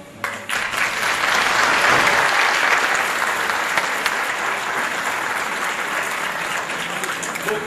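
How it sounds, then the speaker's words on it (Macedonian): Audience at an annual folk dance ensemble concert bursts into applause after a brief quiet moment, a dense, sustained wash of clapping from a large hall crowd lasting several seconds, slowly easing but still strong at the close. "Вашиве аплаузи се на големата награда за нас."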